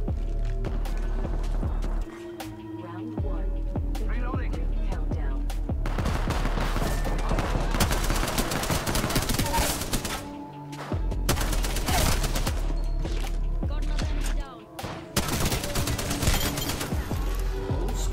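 Light machine gun fire in the video game Apex Legends, sustained rapid bursts that run nearly throughout, loud and close, with brief gaps between strings of shots and game footsteps mixed in.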